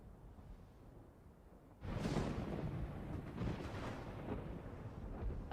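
A flashbang grenade goes off in Final Fantasy XVI, a sudden loud burst after a quiet lead-in, followed by a sustained rushing roar with further surges over the next few seconds.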